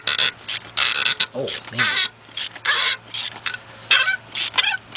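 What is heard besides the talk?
3/8 drive ratchet turning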